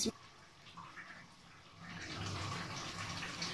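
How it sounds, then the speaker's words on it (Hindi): Boiled rice for green masala biryani is tipped into a sieve to drain, a rushing pour of hot water that starts near and loud, eases off, then swells again into a steady splashing stream. "चावल बॉईल हो चुके हैं, अब हम इसको छान लेते हैं।"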